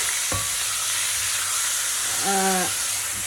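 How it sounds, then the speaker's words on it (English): Beef for stroganoff sizzles in a hot pan with a steady, loud frying hiss throughout, while a short voice-like tonal sound briefly rises above it. "we need to fry the meat"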